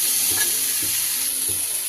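Sliced eggplant and mixed vegetables hiss loudly and evenly in hot oil, with a few soft, rhythmic scrapes of stirring every half second or so; no voices.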